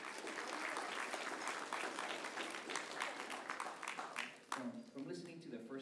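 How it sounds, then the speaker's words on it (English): Audience applause at a high school band concert, steady dense clapping filling the hall and then thinning out, with a voice speaking near the end. "So please, a huge round of applause for yourselves."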